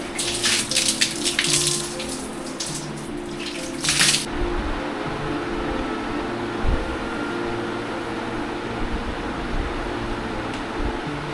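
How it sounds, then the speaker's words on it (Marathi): Bucket water splashes and pours heavily for about four seconds during a bath, then stops, leaving only a steady low room hum. "आता एक बादली पाणी आणले. आता आंघोळ करूया सर्वप्रथम."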